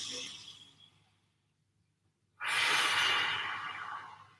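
A slow, deep breath drawn in through the nose and then released during a relaxed breathing exercise in a home recovery workout session, with a soft inhale first, a quiet pause, then a louder, airy exhale close by.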